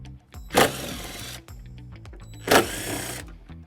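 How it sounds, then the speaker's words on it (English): A 10mm socket drives out the screws holding the taillight on a 2001 Infiniti QX4, heard as two short, loud whirring bursts about two seconds apart over a quiet background. "we're gonna remove it using a 10mm socket"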